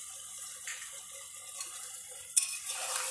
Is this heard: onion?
yes